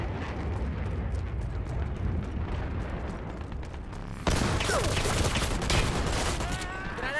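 A gun turret blows up in a video game: loud, continuous battle noise with rumbling gunfire gives way to a sudden, brighter explosive burst with crackling debris, close and dense.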